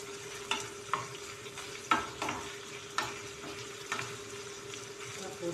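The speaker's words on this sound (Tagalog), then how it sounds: "pagka maluto na itong ano guys, itong hotdog, halo-haloin lang natin ito guys para hindi siya masunog" Hotdogs fry in a pan with a low, constant sizzle while a utensil stirs and scrapes them in roughly one-second strokes, close and fairly quiet.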